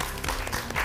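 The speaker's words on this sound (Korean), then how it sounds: "네 분의 도전자에게 큰 박수를 부탁드립니다" Audience applause for four finalist contestants at a Silver Star Korea final-round awards ceremony: a dense, steady wash of many hands clapping, fairly loud and continuous without a voice over it.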